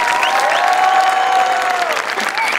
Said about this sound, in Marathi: टाळ्यांचा आवाज ऐकलात का सर?